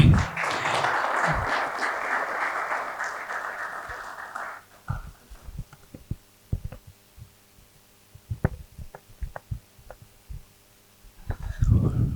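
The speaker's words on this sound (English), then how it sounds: "Can we please clap for" An audience at a Calabar tech mixer panel session claps for the host, a few seconds of close, fairly loud group applause that cuts off abruptly, leaving a quiet hum with scattered soft thumps and knocks.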